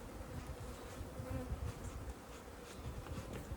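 A bee buzzes continuously inside a top bar beehive during a hive check. The drone is loud and close and holds steady throughout with no speech.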